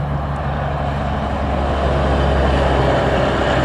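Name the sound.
container truck passing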